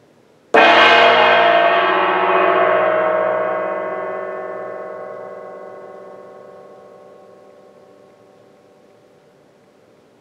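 A single gong stroke in a church yoga session blooms with a strong attack, then a rich shimmering tone that slowly decays over about ten seconds, humming on alone with no talk.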